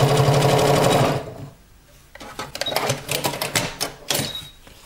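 A sewing machine stitching outdoor trouser fabric runs in a fast, loud burst for about a second, then stops and is followed by a flurry of sharp mechanical clicks and rattles up close.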